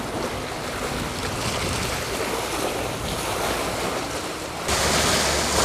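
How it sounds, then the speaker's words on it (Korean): Rough autumn sea surges against a rocky shore by a breakwater, wind-driven waves roaring steadily and swelling louder near the end, with gusty wind buffeting the microphone. "하지만 기대했던 것과는 달리 파도가 조금씩 거세진다."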